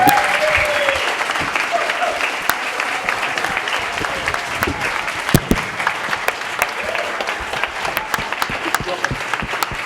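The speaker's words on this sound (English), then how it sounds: "Can I get a big fucking round of applause for these people?" Sustained enthusiastic applause from a large crowd, dense clapping throughout with occasional sharper claps and faint cheering underneath.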